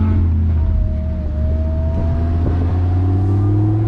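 A supercharged Lamborghini Gallardo Spyder revs and drives close up, its engine a loud, steady roar with a rising whine and brief throttle swells, heard alone.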